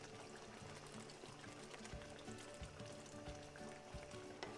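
Water poured into a pan of smothered pork chops in sauce, a quiet continuous trickling hiss blended with soft sizzling throughout, with no talking.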